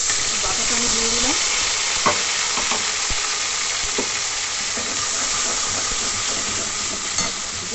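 Tomato paste with kalonji (nigella seeds) and green chilies frying in a pan for a fish curry, giving a steady close sizzle with faint stirring scrapes and a few clinks, no talking.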